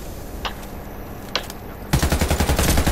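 Automatic weapon fire in the video game Warface, a few faint distant shots followed by a loud, rapid sustained burst of gunfire close by.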